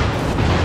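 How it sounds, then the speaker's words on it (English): A single dense, sustained explosion blast as an enemy cruiser is destroyed in a naval battle video game, loud and close with no talk over it. "We've destroyed an enemy cruiser."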